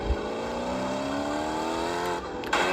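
A car engine in the CarX Street racing video game holds a smooth rising drone while driving, loud and steady, with a brief sharper burst near the end and no talk.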